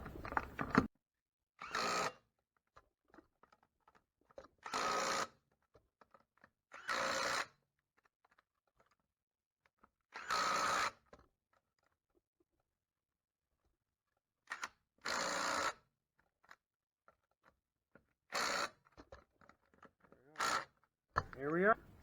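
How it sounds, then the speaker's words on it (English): Wheel bolts on a 2006 Chevrolet HHR are tightened in a star pattern with a power tool, giving about eight separate short whirring bursts with silent gaps between them, close and fairly loud. "So now we just need to torque these to the vehicle spec, and then we use our star pattern."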